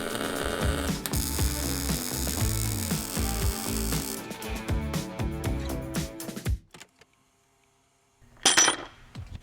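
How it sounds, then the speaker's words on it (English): A ratchet wrench, sized 3/4, snugs a nut during a Toyota Tacoma body mount and frame brace install, giving rapid, close ratcheting clicks for several seconds, then a pause and a short final burst of clicks. "So I tightened up this nut a little bit with a 3/4 wrench"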